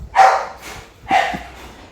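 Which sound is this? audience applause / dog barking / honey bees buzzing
dog barking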